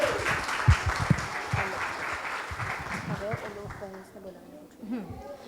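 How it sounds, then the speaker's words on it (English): An audience of children and parents at a public speaking event gives a round of applause, steady clapping that gradually thins out, with voices and chatter mixed in. "Can we have a huge round of applause for all of them?"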